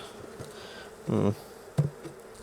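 Honey bees buzz around an open hive, a short close hum swelling up and fading, followed by a quick faint flicker of wings against quiet background.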